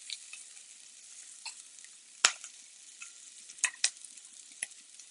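Kale sizzles in a hot pan, a quiet steady hiss broken by scattered sharp crackles and spits, close and alone.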